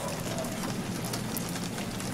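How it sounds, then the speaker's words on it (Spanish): Steady rain ambience plays on a radio broadcast, a dense, even hiss of falling drops with faint scattered patters, constant in level throughout. "Es que el sonido de la lluvia es lindo."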